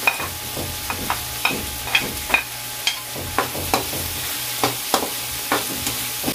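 Garlic and onion sauté in a pan for pork adobong sitaw, with repeated sharp scraping stir strokes at a steady rhythm over a low, soft sizzle, close and fairly loud with no talk.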